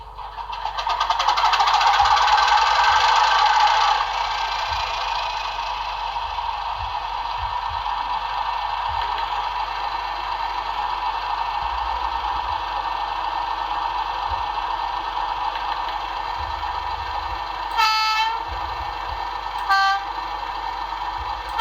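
A Hornby Class 31 model diesel locomotive with a Soundtraxx sound decoder drones steadily through a small iPhone speaker, revving up early on, with two short horn blasts near the end.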